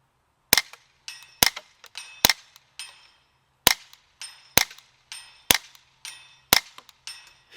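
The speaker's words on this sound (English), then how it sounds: "let me just throw you in a shooting compilation" Sharp, close single gunshots from a .22 semi-automatic rifle in the style of a Ruger 10/22 at a shooting range, about a dozen cracks spaced unevenly with brief ringing after each and quiet gaps between.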